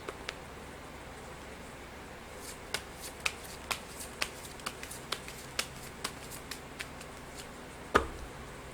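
Tarot cards being shuffled at close range, a quiet opening followed by a steady run of crisp riffling snaps and one sharper slap near the end, with no talking.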